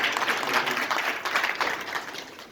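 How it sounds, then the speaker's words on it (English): An audience at an evening mental health awareness program gives a round of applause, moderately loud clapping from many hands that swells and then eases off toward the end. "can we give another round of applause?"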